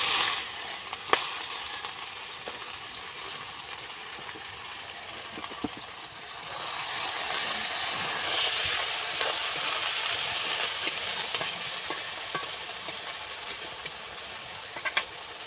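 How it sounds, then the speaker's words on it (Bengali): Chopped onions fry in oil with salt in a wok for a bottle gourd and chicken curry, giving a soft, steady sizzle with occasional stirring clicks, fairly quiet, and fuller in the second half. "পেঁয়াজটা কিন্তু ভালো মতো করে ভাজা হচ্ছে"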